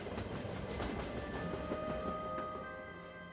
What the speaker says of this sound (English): The train slid and stopped.